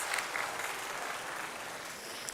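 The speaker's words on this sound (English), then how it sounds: "A big round of clap for you." An audience at an international biotechnology conference applauds, a soft, steady patter of many hands heard from a distance, faint and continuous without any voices over it.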